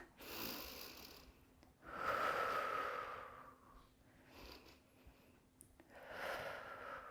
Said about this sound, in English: Just take some nice deep breaths.